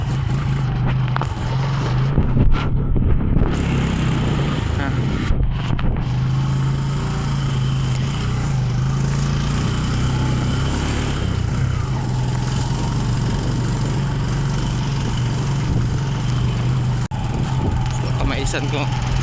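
A motorcycle engine rattles on a mountain ride, a steady, loud, low drone running unbroken from start to finish, with occasional voices.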